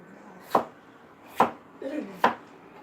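Three sharp knife chops on a cutting board, evenly spaced about a second apart, close and crisp, with a faint brief clatter between the last two strokes.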